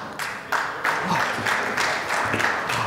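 An audience applauding at a live event, a broad steady wash of many hands clapping that swells in waves, moderately loud and continuing without a break.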